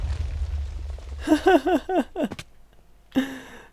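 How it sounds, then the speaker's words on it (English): Minecraft explosions blow apart an iron farm: a low rumble gives way to a run of sharp, crackling blasts with rising whooping voices between them, then a final loud boom near the end. "the first explosion already took out the side of the villagers"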